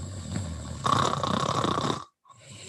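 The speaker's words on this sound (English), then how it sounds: "Do you suffer from secondhand snoring?" Snoring in a radio advertisement: a close, rough, rumbling breath that swells louder partway through, cuts to silence, then starts again faintly.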